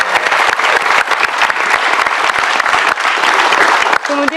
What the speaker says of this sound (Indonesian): Tepuk tangan untuk Ibu Titu.